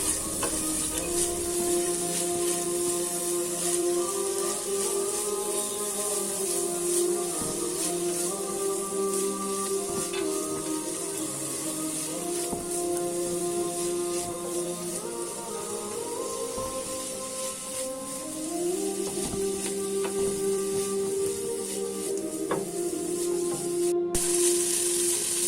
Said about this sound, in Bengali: দুই মিনিট নেড়ে চেড়ে ভালো করে ভেজে নেই